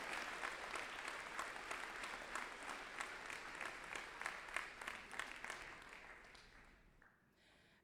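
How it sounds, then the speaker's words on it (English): A large audience at a spring commencement ceremony gives a sustained round of applause, with full, even clapping that thins and fades out near the end. "Let's give them a round of applause right now in appreciation for all those who have helped you to achieve your educational goals"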